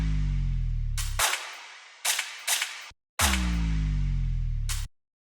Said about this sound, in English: I just want the two gunshots at the end of that fill.